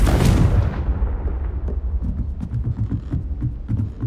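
Confringo fire spell in Hogwarts Legacy: a loud explosive blast at the start that quickly decays, followed by a run of softer rumbling thuds and impacts.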